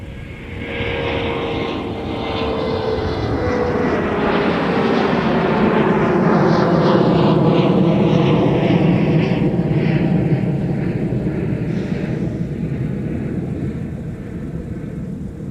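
An airliner lands on runway 30 left at Minneapolis–St. Paul airport, a broad roar swelling up close over several seconds and then sliding down in pitch as it passes, fading gradually toward the end.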